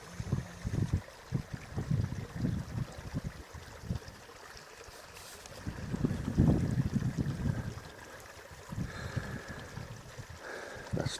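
Mountain stream fed by springs and runoff near the summit of Moel Famau, a soft steady trickle and rush of water heard close by, swelling in bursts, with no talk.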